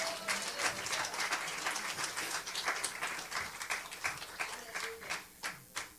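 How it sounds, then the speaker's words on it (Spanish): Church congregation applauding during a service, a fairly quiet patter of clapping that thins into a few scattered, distinct claps toward the end, with some voices underneath. "¿cuánto para darle un aplauso al Señor?"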